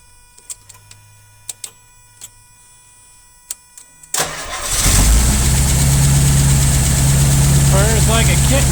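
A few faint clicks are heard first, then the 6.75-liter engine of a 1973 Rolls-Royce Silver Shadow with rebuilt carburetors cranks and catches, settling into a loud, steady idle close by.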